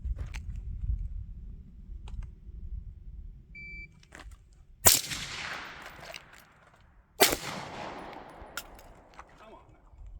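A suppressed firearm fires two sharp, loud shots a few seconds apart, each cracking and then trailing off in a fading echo over quiet outdoor background.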